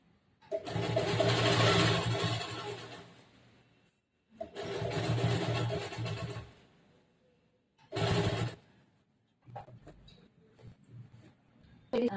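A sewing machine stitches a lined, bordered blouse with folded canvas around the neck edge, running in three long bursts separated by pauses, followed by softer, shorter runs.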